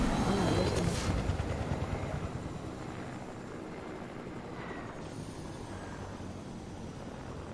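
Helicopter rotor and engine drone in a video game, steady and fairly loud, fading slightly after a louder first second, with no talking.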